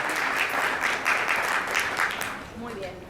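An audience at a public contracts panel applauds the speakers, sustained clapping from a sizable room that fades slightly toward the end.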